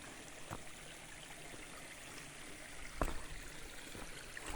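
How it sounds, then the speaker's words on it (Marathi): Water trickles and flows steadily in a quiet, continuous babble, with a brief louder splash or knock partway through. "वरून कुठून येत आहे पाणी"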